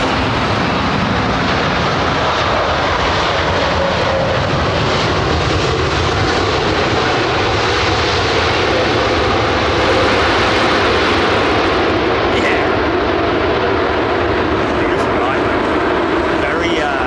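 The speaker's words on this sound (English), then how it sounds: "Indigo now operating ex Air India 747-400s." An ex Air India Boeing 747-400 now flown by Indigo roars steadily on approach to Heathrow's runway 27R, a loud, continuous broadband engine rumble that stays close and full throughout.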